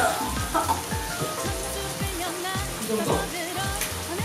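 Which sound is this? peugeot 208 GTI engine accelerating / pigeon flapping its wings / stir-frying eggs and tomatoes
stir-frying eggs and tomatoes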